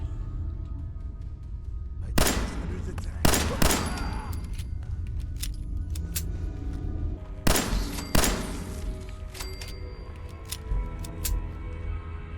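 Bursts of suppressing gunfire in Fallout 4, loud sharp volleys clustered around a few moments over about twelve seconds, with rapid cracks ringing over a steady low game rumble.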